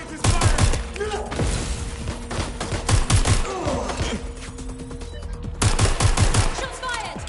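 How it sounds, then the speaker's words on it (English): Rapid gunfire bursts out close and loud in clustered volleys, with a few gaps between them and voices talking in the background. "Shots fired."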